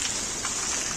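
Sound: heavy rain at night

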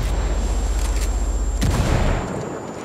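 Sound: gunfire in the video game Ghost War

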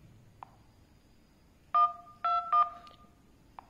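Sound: phone keypad dialing tones

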